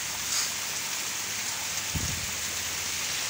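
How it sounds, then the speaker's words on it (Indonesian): Steady heavy rain pours down around an empty house among large trees, a constant dense hiss throughout, with a brief low rumble near the middle. "Hujan sangat deras sekali."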